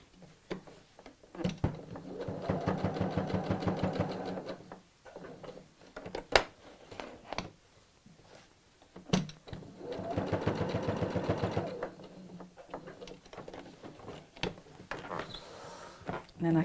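Sewing machine tacking stitches across the top of a tote bag handle, two bursts of rapid mechanical stitching a couple of seconds each, separated by quieter clicks and fabric handling, recorded close up.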